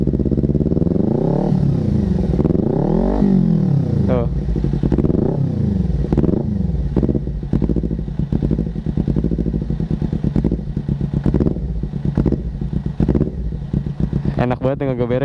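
A Kawasaki ZX6R 636 sport bike engine revs hard and repeatedly, its pitch sweeping up and down close by, then settles into a rapid crackling idle burble.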